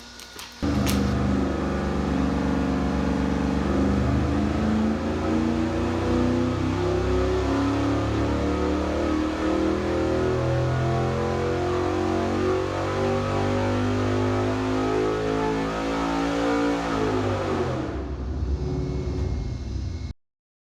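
A car with a junkyard 5.3 liter L33 LS engine and a mild Elgin cam revs hard through a long acceleration pull, the engine note rising steadily and loud for about seventeen seconds before cutting off abruptly.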